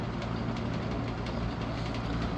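A vintage 1970s Galaxy Turbo Stream 20-inch box fan runs with a steady, close whooshing hum and a faint, fluttering rattle from its cage.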